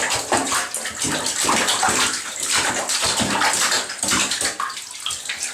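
Water splashes and sloshes loudly and continuously in a bathtub as a ferret is wetted, dense close splashing with no pauses.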